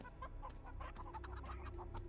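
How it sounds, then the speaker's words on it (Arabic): Chickens in a giant chicken escape-challenge video game cluck in a quick, busy stream of short calls. They sound near and steady, with no speech over them. "مجموعة دجاج. هذا الحجم الطبيعي للدجاج."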